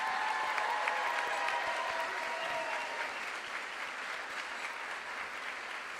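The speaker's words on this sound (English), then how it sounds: "Let's have a collective round of applause for the cum laude students." An audience at a high school honors night gives cum laude students a sustained round of applause, dense steady clapping from a crowd that fades slightly toward the end.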